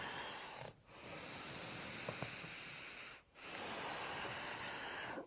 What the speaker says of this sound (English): Exhale, squeeze.